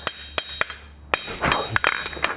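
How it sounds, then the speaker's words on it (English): Light hammer taps ring out as a blacksmith forges a toaster tray by hand, about a dozen sharp, close strikes in an uneven rhythm, some with a brief metallic ring. There is no talking. "I'm just using slight taps and"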